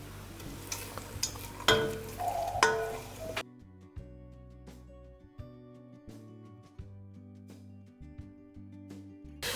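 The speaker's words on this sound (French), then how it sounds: "Donc vous mettez vos oignons à revenir tout doucement" Onions sautéing gently in olive oil for a vegan pumpkin risotto, a soft sizzle with stirring for the first few seconds, then quieter frying with light ticks and pan clinks under a steady background.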